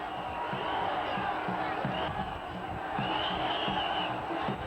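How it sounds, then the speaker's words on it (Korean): A dense, roaring crowd shouts together at the Gijisi tug-of-war festival in Dangjin, a continuous wall of massed voices with rhythmic chant-like pulses, loud and close throughout. "사람들이 외치는 함성 소리가 하늘에 닿아"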